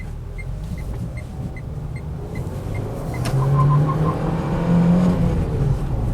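Renault Duster with a 1.6 engine and short gearing accelerating in town, a steady close engine drone rising in pitch and loudness as revs climb, with a faint rhythmic ticking at the start.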